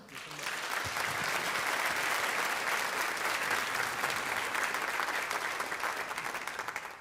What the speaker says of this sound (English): Let's give another round of applause to Chancellor King